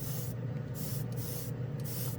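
An airbrush sprays A-Stand chrome paint onto a Gundam model kit, giving a steady close hiss with short breaks and pulses as the trigger is worked.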